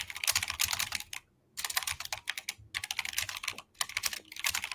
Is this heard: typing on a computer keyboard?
yes